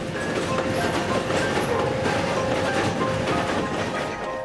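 A train runs along rails with a steady, loud rumble and faint rhythmic clatter that continues without a break, with no voices over it.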